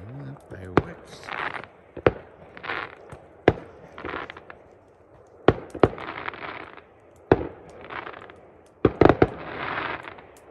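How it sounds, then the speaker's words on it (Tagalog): Fireworks go off in a scattered series of sharp bangs, with crackling bursts between them, while people talk in the background at an overnight campsite at Big Horn Dam. "Fireworks."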